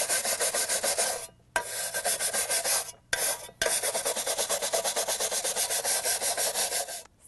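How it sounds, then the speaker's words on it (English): A wire brush scrubs rust off a steel shovel blade in downward strokes, a steady close rasping scrape that runs in long bursts with two brief pauses. "you're going to brush in a downward pattern to remove the rust"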